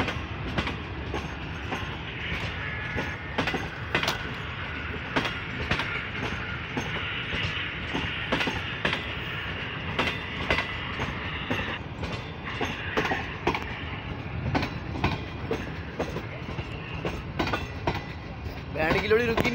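Pakistan's Pak Business Express, led by a ZCU30 locomotive, rushes past at speed, its wheels beating out a steady, loud clickety-clack over rail joints as the coaches roll by close at hand.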